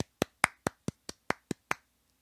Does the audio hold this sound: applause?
yes